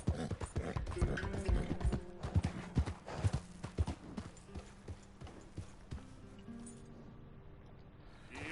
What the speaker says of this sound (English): is hard to sightsee while you're riding the horse